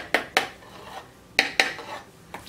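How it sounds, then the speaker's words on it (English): A utensil stirring a foamy bloomed yeast mixture in a bowl, with a few sharp clinks against the side coming in two pairs and then a faint final tap, close and clear with no voices. "So just going to stir it down"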